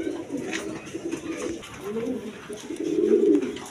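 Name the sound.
pigeons cooing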